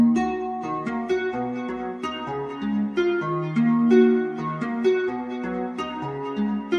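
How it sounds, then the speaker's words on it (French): Arpeggiated guitar with chorus and reverb effects produced in FL Studio, notes plucked one after another in a flowing repeating pattern, clear and moderately loud with a washy tail. "Et du coup la guitare en arpège ça sonne comme ça."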